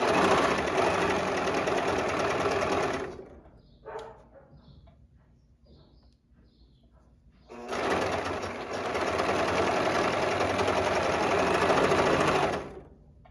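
A domestic overlock sewing machine runs loud and steady on knit fabric for about three seconds, pauses briefly with a faint click, then runs again for about five seconds.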